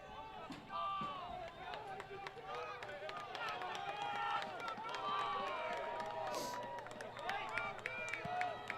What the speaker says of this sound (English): Crowd trying to urge on the Bulldogs